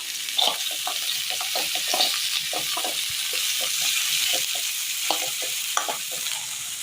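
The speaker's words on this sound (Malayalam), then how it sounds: "ഇനി ഇതിലേക്ക് ഇഞ്ചിയും സവോളയും ഒരുമിച്ച് ചേർത്ത് കൊടുക്കാം." Chopped ginger and onion sizzle steadily in a pan while a spoon scrapes and stirs in quick, repeated strokes, close and clear, with no talking.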